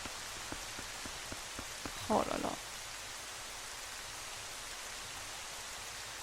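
Steady rain in the video game Zelda Twilight Princess, at Hyrule Castle, a constant hiss of rainfall that runs through the whole stretch while a man briefly exclaims partway through.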